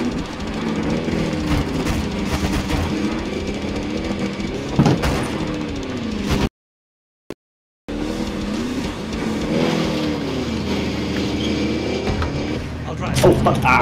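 A car drives in a shooting video game, its engine droning and revving with some tire squeal, then cuts out to silence briefly before resuming, while players talk over it.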